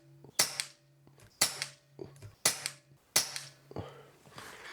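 A Walther S410 air rifle fires Hades pellets at a target range: five sharp, close shots spaced about a second apart, each with a brief ringing tail, plus faint clicks of the action between them.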